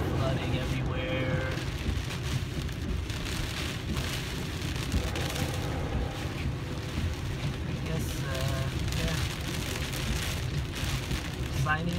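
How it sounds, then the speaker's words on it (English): Heavy rain pounds a Tesla Model X creeping through a torrential downpour and flooded roads, a steady dense roar of drops on the car body that holds close and loud throughout, with a voice faintly under it. "with all the rain and flooding"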